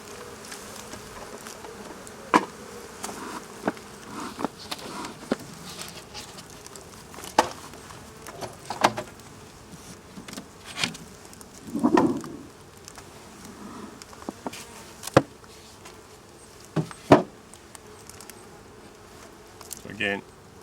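Honeybees buzzing around an open hive during beekeeping, a faint steady hum under scattered knocks and handling noises from frames, with a few louder bursts of nearby buzzing.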